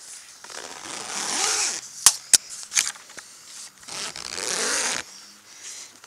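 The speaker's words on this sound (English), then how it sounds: "Zip it down as far as I can" Zipper on a greenhouse cover pulled in several rasping strokes of varying length, close and moderately loud, with sharp clicks and rustling of fabric between pulls.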